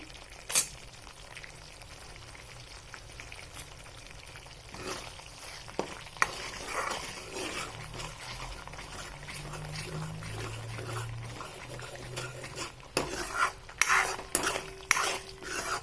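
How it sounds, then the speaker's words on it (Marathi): Ground masala paste frying in oil in a pan, a continuous low sizzle broken by clattering spoon-on-pan scrapes and knocks, denser and louder toward the end, with no talk. "तेल सुटेपर्यंत आपण हे वाटण असं परतून घ्यायचं आहे"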